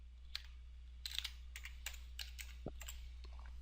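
Light clicking of keys on a computer keyboard, a short irregular run of soft taps over a low steady hum, quiet and close with no speech.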